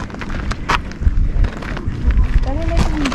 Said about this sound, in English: And if you hear the wind, forgive me if the sound of quality is not, it's not that good